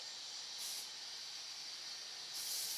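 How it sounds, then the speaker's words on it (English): A spray bottle set to turbo applies a product with two short, soft hissing bursts, one early and one near the end, against a quiet background. "I'm going to spray this in. This is my favorite way to apply."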